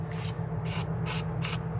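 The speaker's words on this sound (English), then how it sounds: "We'll spray that a little bit like that." Gunk penetrating oil hissing from a spray can into the intake of a first-generation Cummins engine, four short bursts at an even rhythm over a steady low engine-like hum.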